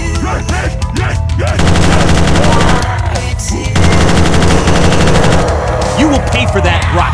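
Rapid automatic gunfire roars loudly and continuously in a Call of Duty: Black Ops PC mod called Project Thor, Ascension map, with dense bursts and brief pauses, a few game voice lines mixed in.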